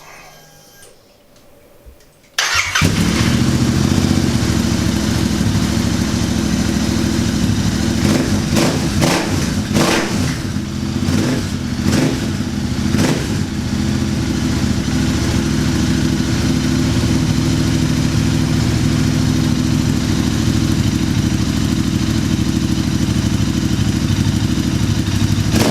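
Royal Enfield Interceptor 650 twin fitted with a TEC Stinger 2-into-1 high-performance exhaust and high-flow air filter starts up after a short quiet stretch, then idles loud and steady with a few throttle blips early on.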